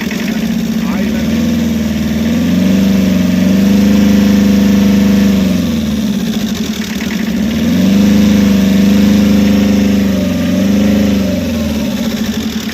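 A Tata Ace HT mini truck engine revved twice from idle, each rev rising into a sustained loud drone before settling back to a steady idle, recorded up close.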